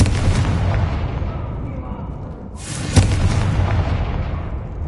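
A Confringo spell blast in the Hogwarts Legacy video game gives a loud, rumbling explosion. It fades, then a second sharp boom hits near the middle and trails off into a heavy roar.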